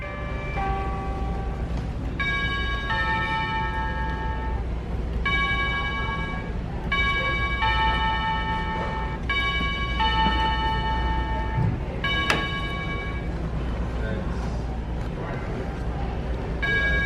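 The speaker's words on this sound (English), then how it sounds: "That's like a big old mansion doorbell." Big mansion-style doorbell chime on a demo display at Lowe's: a long multi-note chime melody rings out in repeated phrases, bright and clear over steady store hum and murmuring voices.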